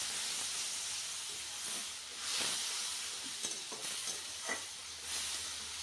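Water poured into frying spices in a pan sets off a steady, loud hiss and sizzle with brief sharper bursts of steam, heard alone without voices.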